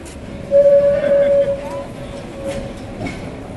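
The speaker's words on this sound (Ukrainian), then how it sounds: "чуть далі чудо тур, такий екскурсійний паровозик, ну а тут трамвайчик." A tram passes on Rynok Square in Lviv, a loud sustained rail tone with rumble and faint clatter in an open city square, with people talking nearby.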